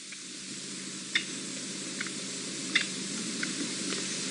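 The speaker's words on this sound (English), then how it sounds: "So the francolins are alarm calling at him." Several faint, brief francolin alarm calls ring out at irregular intervals over a steady hiss of background noise, sounding distant, on safari near a male leopard.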